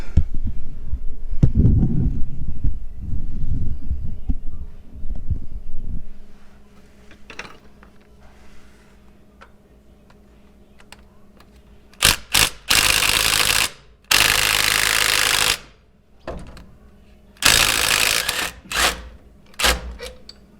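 Power tool zipping out 19 mm bolts while removing the front clamshell on a third-generation Toyota 4Runner, heard as several loud, broad bursts of a few seconds each after a quieter stretch, with no talking.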